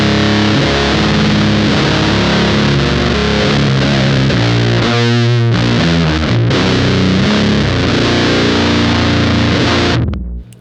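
Lower-tuned electric guitar driven through a Big Muff fuzz pedal, a thick, woolly, saturated wall of sustained chords played loud and continuously for about ten seconds before cutting off.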